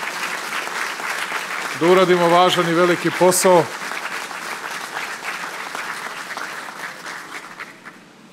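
Audience applause for a dignitary at a new factory opening in Pančevo, Serbia, a burst of clapping that swells briefly, surrounded by someone speaking loudly over a PA in a large hall.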